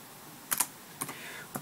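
A ping command being typed on a computer keyboard, with a few quiet, sparse key clicks heard close against a low background hiss.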